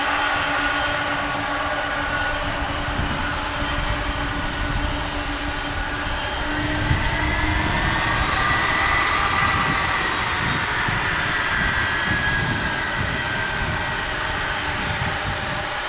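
A fixed-wing aircraft near the runway at DFW Airport gives a continuous, fairly loud engine roar and whine that holds steady throughout, with no voices.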